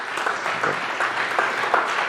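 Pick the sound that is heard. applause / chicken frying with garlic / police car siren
applause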